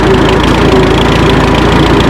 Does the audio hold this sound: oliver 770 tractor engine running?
yes